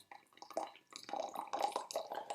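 A thin stream of water pours and trickles steadily over pressed white tea leaves, close by, with small splashy gurgles that build and fade over a couple of seconds.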